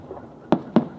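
Two sharp fireworks bursts at an Independence Day celebration, spaced about a quarter second apart, loud and fairly close over a quiet outdoor background.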